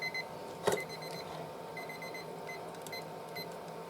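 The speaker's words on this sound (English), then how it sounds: "Oh, there's my timer." Kitchen timer going off during cooking of sausage and cabbage in a skillet, a single sharp beeping burst near the start followed by faint repeating electronic tones over a low room hum.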